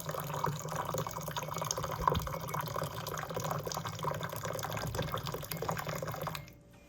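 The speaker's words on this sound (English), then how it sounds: "when you pour hot liquids inside, it does say mama right on the bear." Hot liquid is poured steadily into a bear-shaped mug, giving a faint continuous splashing stream that runs for several seconds before cutting off abruptly.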